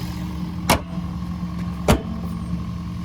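Engine bay of a 2009 Toyota Prius with its 1.5 liter four-cylinder hybrid setup, a steady low idle hum with two sharp clicks or knocks, close and alone.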